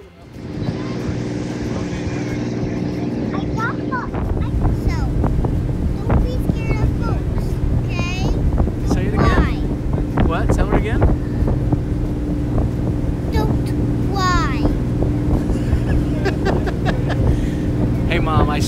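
A party boat motors across the open ocean 8 to 10 miles offshore on a fishing trip. Its engine drones constantly beneath heavy wind buffeting on the microphone, and faint voices come and go.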